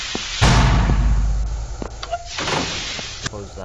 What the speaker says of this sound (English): Close that door, obviously.